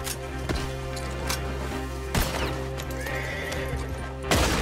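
A horse in the Red Dead Redemption 2 video game neighs loudly and repeatedly over steady clip-clopping hooves and a constant low game rumble, with no talking.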